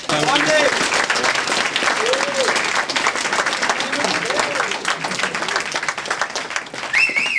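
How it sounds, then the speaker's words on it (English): An audience claps in sustained applause, dense and fairly loud throughout, with faint voices and an occasional whistle or call rising over the clapping. "Let's give them a round of applause."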